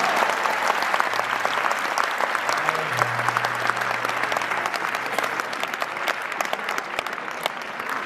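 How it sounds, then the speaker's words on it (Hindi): A full hall at a Hindi poetry gathering, the kavi sammelan, breaks into loud, sustained applause, dense continuous clapping for several seconds with a faint low tone underneath. "और तालियां पूरा सदन इस बात पर बजाएगा"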